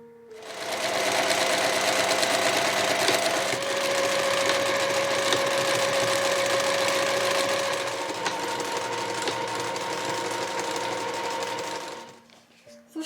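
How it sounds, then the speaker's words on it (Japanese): A sewing machine stitches a cotton inner bag with a steady, close, whirring hum and rapid needle chatter for roughly eleven seconds, then winds down and stops. "反対面も面を変えて縫っていきましょう。"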